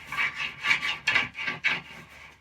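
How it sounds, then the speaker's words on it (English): A cigar box guitar's piezo pickup rubbed against a belly picks up rhythmic scraping strokes, about seven in quick succession, close and fairly quiet. "you can always tell how sensitive it is just by rubbing it on your gut, and that sound just like comes through"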